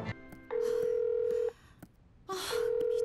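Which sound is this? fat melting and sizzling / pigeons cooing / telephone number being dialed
telephone number being dialed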